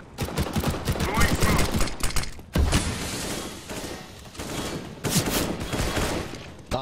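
Rapid bursts of gunfire and sharp blasts from a CS:GO match, loud and dense, broken by a brief pause partway through, with occasional voice callouts mixed in.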